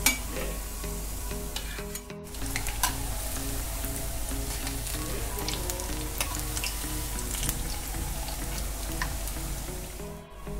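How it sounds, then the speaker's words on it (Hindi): Chinese pakoras deep-frying in hot oil give a dense, continuous bubbling sizzle, loud and close, with a few faint utensil clinks and no voices. "इसी तरह से हम सारे पकौड़े फ्राई कर लेंगे।"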